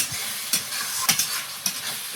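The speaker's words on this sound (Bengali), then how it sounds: "একটু জল দিয়ে মশলাটা কষিয়ে নিয়েছি, এবার মাংসটা দিয়ে দেবো।" A spice paste for duck curry, cooked with green chillies, Kashmiri chilli powder and a splash of water, fries in a pan with a close, steady sizzle broken by about four quick scraping stirs, no talking.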